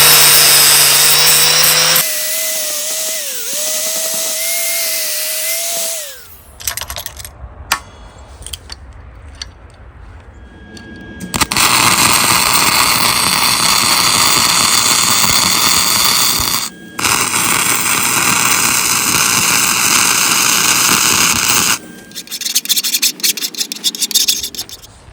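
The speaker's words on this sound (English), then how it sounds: "I'm going to grind high spots here off." Grinding high spots off a fresh weld on the broken output crankshaft of a 22 hp Briggs & Stratton engine: a whining tool spins up first, then long, loud, harsh grinding stretches with brief pauses, with no talk.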